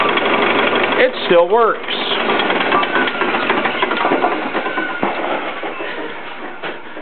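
An old belt-driven lathe in a grandfather's workshop starts up with a brief rising whine, then runs as a steady, loud mechanical hum and rattle, while someone talks over it.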